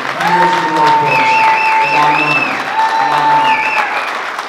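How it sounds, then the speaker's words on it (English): Applause from the crowd at a 2022 boxing announcement event, a steady clapping wash running under a loud voice that speaks over it throughout. "let's clap up for this guy again"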